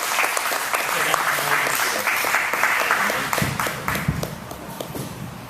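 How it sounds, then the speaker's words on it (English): Loud, sustained applause from a tech meetup audience after a presentation on enterprise mobile app development, dense clapping that holds steady and then tapers into scattered claps near the end. "let's have a big round of applause for Ben."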